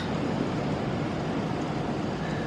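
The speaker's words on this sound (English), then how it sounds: "but it is pouring down. It's so loud." Heavy rain pours down in a steady, dense roar with no break, loud and close, no voices present.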